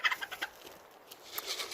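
Chickens cluck in a quick burst of short calls, then a few scattered softer clucks follow at moderate distance.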